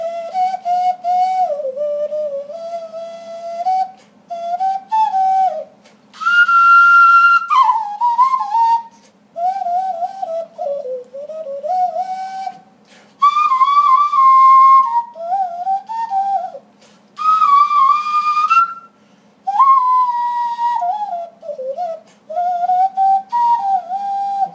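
A hand whistle made through cupped fingers, sliding up and down in pitch through a wandering melody, with a faint steady hum underneath and no talking.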